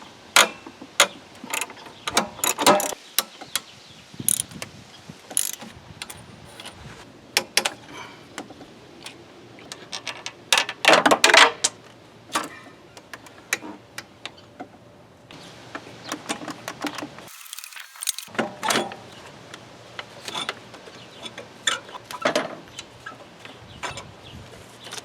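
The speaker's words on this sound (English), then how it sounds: "Yeah, I guess I'll have to remove the AC compressor." Wrench and ratchet work removing the AC compressor from a Subaru WRX engine, irregular bursts of clicking ratchet strokes and metallic clanks up close, with pauses between spells of turning and no talking.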